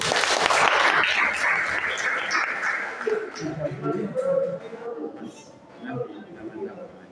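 A school audience gives a burst of applause during a leadership talk at MA Darul Faizin, loud at first and fading after a few seconds into scattered chatter and voices.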